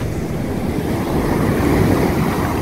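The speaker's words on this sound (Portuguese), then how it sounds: "aqui tem umas ondas maiores." Large ocean waves breaking at a beach near Bonete, Ubatuba, São Paulo, a loud, continuous roar of surf with wind buffeting the microphone.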